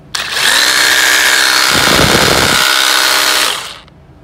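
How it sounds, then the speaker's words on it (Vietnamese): A Makita 12V rotary hammer drill runs into concrete in a loud, close, continuous whine for about three seconds, the hammering rattle growing heavier partway through before the motor winds down. "khoan bê tông này ngọt lắm các bạn ạ."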